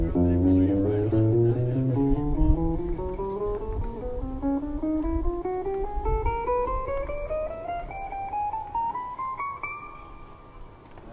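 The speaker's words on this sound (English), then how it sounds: "He's demonstrating the chromatic scale." An electric guitar plays a chromatic scale warm-up, a steady run of single notes rising from low to high over about ten seconds and ending on a held top note, with no talking.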